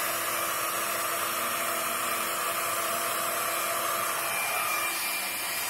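A Babyliss AS200E rotating hot air brush runs steadily, giving a loud, even whooshing hiss of blown air with a faint motor whine. It goes on unbroken for several seconds with no voices.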